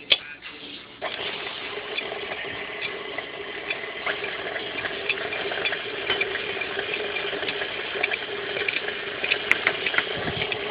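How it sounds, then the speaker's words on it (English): Lemon curd ingredients and sugar are whisked in a bowl, making a continuous fast scraping and ticking, moderately close and fairly quiet, with no one talking over it. "We're going to beat it together for a while."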